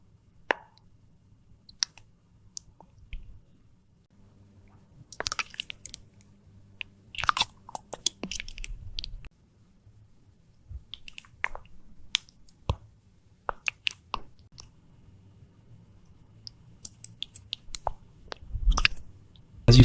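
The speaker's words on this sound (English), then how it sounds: "you can hear a lot of mouth sounds of, I guess, the liquid of the lips and the tongue" Close, wet AI-generated mouth and lip sounds: scattered smacks, pops and clicks of tongue and saliva in near silence, sparse at first and busier later.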